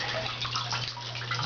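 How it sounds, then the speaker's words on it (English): Water trickles steadily back into a simple hydroponics reservoir from a distributor, with a low steady pump hum underneath and a continuous splashing wash throughout. "You can hear the drips, that's actually the return."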